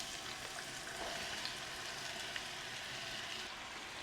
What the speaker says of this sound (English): Now that's melted, we add our finely chopped onions.